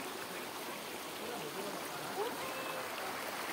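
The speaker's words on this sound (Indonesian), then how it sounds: "Mata air dari Gunung Salak." Spring water on the slopes of Mount Salak near Bogor flows in a steady, soft rushing stream, a continuous close babble with no voices.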